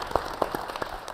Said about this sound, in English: let's give Eric a round of applause as well